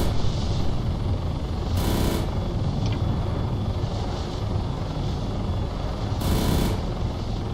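Transport helicopters in the Arma military video game roar steadily with a dense, continuous rotor and engine drone, with two brief louder bursts breaking through the constant wash.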